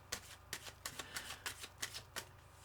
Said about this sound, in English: Sorry, I need another shuffle.